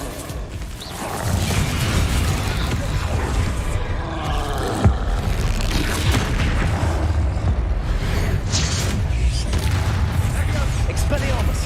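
Bombarda blasting spell in Hogwarts Legacy on hard difficulty, a booming explosion with a sharp burst around the middle, set in dense, continuous combat noise with rumbling impacts and clashing magic, with a voice faintly in the mix.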